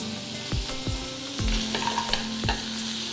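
Chopped carrots fry in a pan for paneer curry, a steady close sizzle broken by several sharp spoon knocks and scrapes against the pan.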